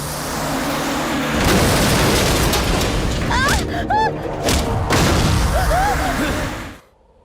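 An explosion bursts in an action scene from the Hindi film Dangerous Khiladi 6: a loud, broad roaring blast with rumbling debris, brief voices mixed in, and the sound cutting off abruptly near the end.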